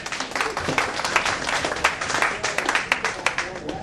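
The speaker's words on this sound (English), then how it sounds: "Round of applause on that." Audience applause at a speech event near an NFL season kickoff night, a dense patter of many hands clapping close and fairly loud for the whole stretch.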